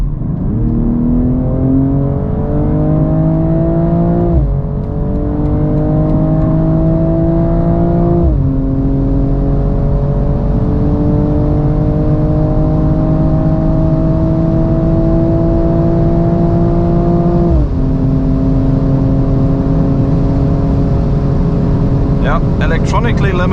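A 2022 BMW M240i accelerating hard from 100 to 200 km/h, its engine droning loud and close from inside the cabin as the pitch climbs steadily through several upshifts, each gear change marked by a brief dip before the rise resumes.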